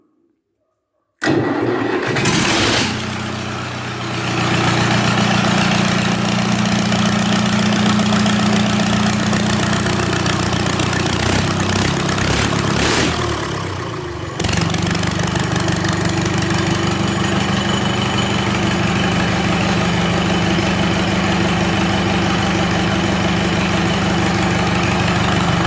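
An MWM D226-4 diesel engine cranks and catches after a moment of silence, then settles into a loud, steady idle with a brief dip partway through.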